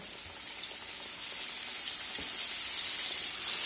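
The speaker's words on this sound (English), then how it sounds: "I'm going to lay her steaks down in here, let them start frying." Steady bright sizzling of country fried steaks frying in hot oil, close and continuous, with a faint crackle now and then and no talking.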